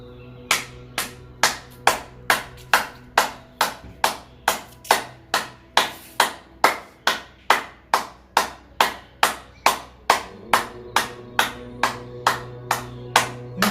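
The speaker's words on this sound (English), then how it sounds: "clapping." Steady, rhythmic hand claps during a yoga session for senior citizens, about two per second, loud and close, continuing without pause over a faint sustained hum.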